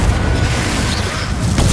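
A Confringo spell explosion in Hogwarts Legacy lands as a loud, broad boom, a dense blast of noise filling the short moment with no voices over it.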